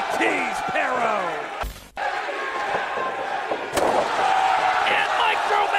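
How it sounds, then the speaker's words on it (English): A wrestler crashes through a door during a GCW match in Tampa, a sharp splintering slam near the two-second mark amid steady crowd roar and commentary, followed by another loud impact. "And Microman puts Parrow through the door."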